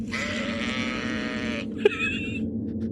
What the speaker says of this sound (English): With a final, spine-chilling bleat,